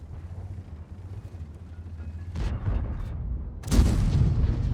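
A tank's HE shell in World of Tanks fires and strikes with a deep boom, followed moments later by a second, louder explosive hit over a low rumbling engine drone.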